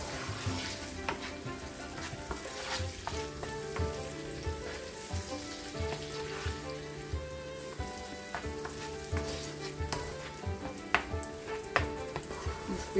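Garlic and sweet pepper fry in a pan for a gardener-style rice sofrito, giving a steady close sizzle with crackling pops and occasional soft stirring clatter throughout, no talking.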